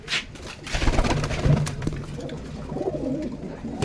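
Pigeons coo softly in a home loft of male Pakistani breed birds, low repeated throaty calls overlapping nearby with a few sharp rustles and wing flicks, no talking.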